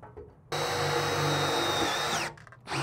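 A power drill driving a screw while building a power box: one sustained high whir close by for nearly two seconds, its pitch dropping as the screw seats before it cuts off.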